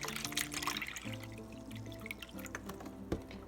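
Liquid poured into a pot on a home stove while making gluten-free mac and cheese with low-carb beef stew, a soft continuous trickle and splash with faint drips, close and quiet, with no voices.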